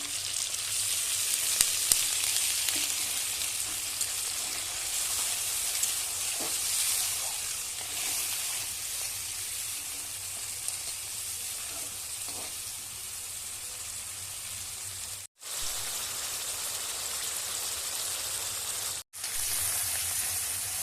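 Crab cooking in oil with salt, turmeric, cumin, coriander and garam masala, giving a continuous loud sizzle with a few faint stirring clinks and two brief cut-outs near the end.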